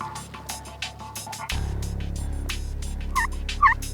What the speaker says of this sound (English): See if he'll gobble again.